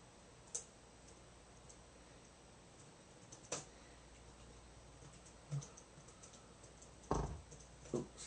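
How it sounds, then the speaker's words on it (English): A few quiet, isolated keystrokes on a computer keyboard, single clicks spaced a couple of seconds apart over faint room hiss, with no talking. "I'm typing out a message real quick"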